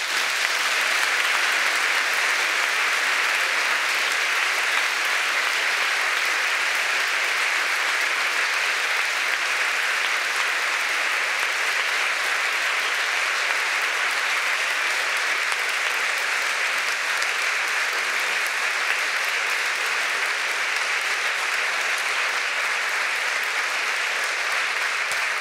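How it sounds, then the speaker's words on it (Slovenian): Sustained, dense applause from a large audience filling a hall, steady and even throughout with no talking over it. "jo prosim pospremite z enim aplavzom za naše moške v dvorani"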